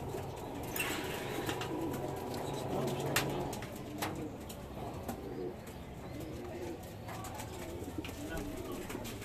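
Pigeons coo softly in a loft, low murmuring calls under steady background noise, with occasional chirps and someone speaking quietly nearby.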